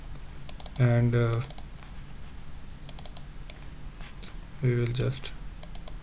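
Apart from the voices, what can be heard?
typing on a computer keyboard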